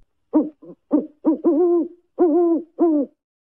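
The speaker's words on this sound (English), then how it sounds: "Owl." An owl hoots clearly and close, a rhythmic sequence of about seven deep hoots, some short and some drawn out, with silence between them.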